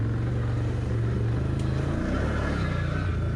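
A Can-Am Outlander 570 ATV engine holds a steady throttle while climbing out of a hole, giving a loud, close, continuous droning rumble with a slight rise in pitch and no voices.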